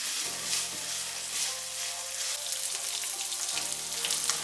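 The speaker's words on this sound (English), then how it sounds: "saute the doubanjiang for a while until your oil turns a deep red." Doubanjiang sautéing in hot oil for mapo tofu, giving a steady, close, bright sizzle that runs without pause, with a slight drop in the low rumble partway through as the pan shifts.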